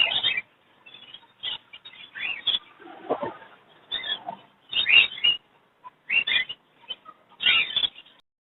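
Pet lovebirds, budgies and fancy pigeons for sale at a Sunday bird market in Chichawatni give off short, bright chirps in scattered bursts, with a low murmur of activity between calls.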